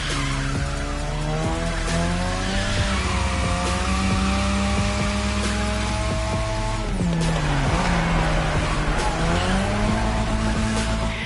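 A car drifts around the drift track in The Crew Motorfest, its engine note rising and falling in sustained harmonic sweeps over continuous loud tire squeal, with no one talking.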